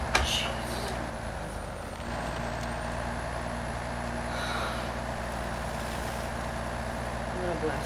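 In SnowRunner, a Ram truck growls continuously as it drives across ice, its loud, steady engine drone joined by a short clunk at the start, with talking over the top.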